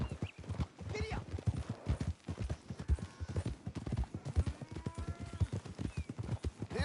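Horse hooves clip-clop in a steady rhythm through Red Dead Redemption 2 game audio, with a whinny rising partway in and people talking over the hoofbeats.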